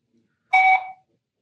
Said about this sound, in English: And once you hear the beep, it's scanned.